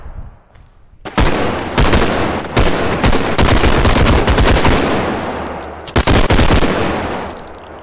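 Gunfire in the video game Bodycam comes as loud, close automatic bursts with a few single shots, rapid rattling volleys running almost continuously before a short final burst.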